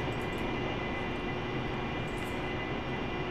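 Steady, loud broadband roar of an AV-8B Harrier jet engine in DCS World as the aircraft makes a vertical landing on a rolling ship, continuous and unbroken with no speech.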